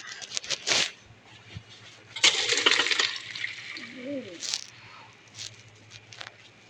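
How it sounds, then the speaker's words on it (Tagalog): Boiled elbow macaroni is drained, with water gushing and pattering steadily into a sink for several seconds. A louder splashing surge comes in the middle, and a faint voice-like tone is heard briefly in the background. "I-drain na natin tong pasta."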